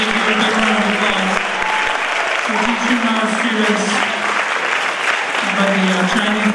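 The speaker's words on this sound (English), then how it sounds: "Let's give them a big round of applause." A crowd at a Lunar New Year school assembly applauds loudly and steadily throughout, with cheering voices mixed into the dense clapping.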